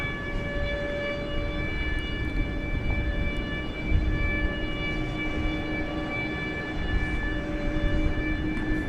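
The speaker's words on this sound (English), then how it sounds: "Oh, I hear an air start." Aircraft air start unit running at Dallas-Fort Worth International Airport, a steady loud whining drone with sustained tonal whistles over broad rumbling noise, continuous and unchanging.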